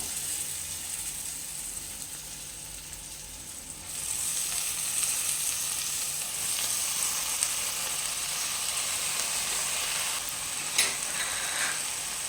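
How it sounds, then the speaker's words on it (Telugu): Amaranth leaves fry in hot oil on high flame, a loud, dense sizzle that swells after the leaves go in and holds steady, with a couple of brief clicks of a utensil. "ఎప్పుడైనా హై ఫ్లేమ్లో పెట్టి ఈ తోటకూర ఫ్రై చేసుకోవాలండి"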